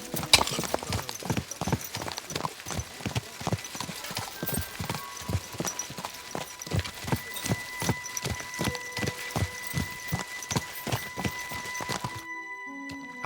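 Horse hooves clip-clop steadily in Kingdom Come: Deliverance II, a regular rhythmic trot of close, distinct hoofbeats that runs for most of the stretch, with faint sustained tones beneath and a brief quieter ending.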